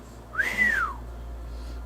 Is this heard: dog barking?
no